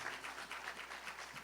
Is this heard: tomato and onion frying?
no